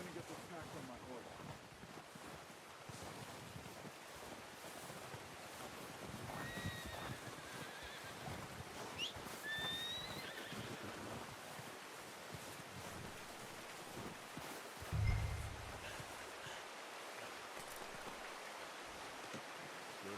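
Horse in the Western video game Red Dead Redemption 2 whinnying amid outdoor ambience, with clip-clop hooves, flowing water and wind, plus a soft thump midway; voices talk quietly in the background.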